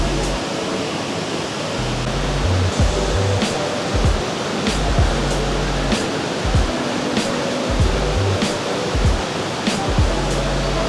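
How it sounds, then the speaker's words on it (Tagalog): Pinlac Falls in Infanta Quezon pours down with strong force, a loud, steady rushing roar of falling water heard up close, with low thumps pulsing underneath. "Ayun guys, grabe, sobrang lakas ng bagsak ng tubig."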